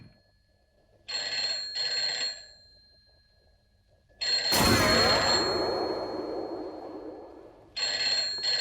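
A telephone rings in bursts of two bright, metallic trills with a pause between, then a loud clattering noise, then the ringing starts again, clear and close in a quiet room.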